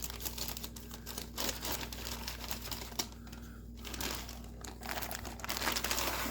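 Cake ingredients are scraped out of a plastic bag, a close, busy crinkling and rustling of the plastic with scattered small crunches and taps continuing throughout.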